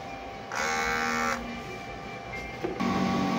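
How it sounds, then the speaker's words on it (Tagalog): A sublimation printer runs its print head cleaning cycle, giving a steady mechanical whir that starts, shifts pitch partway, then returns with a brief clunk near the end. The sound is close and continuous, with no voices. "Printer head clean."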